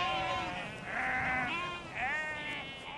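Sheep bleat on Dartmoor, several overlapping wavering calls from a flock rising and falling across a few seconds at moderate distance over a soft outdoor background.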